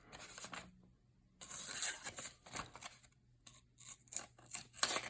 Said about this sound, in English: There's a little bit of tearing the paper instead of cutting it.